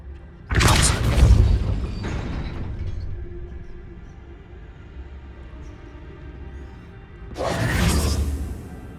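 A Depulso spell is cast twice in Hogwarts Legacy, each a loud whooshing, booming burst, the first near the start and the second close to the end, separated by a quiet mechanical hum.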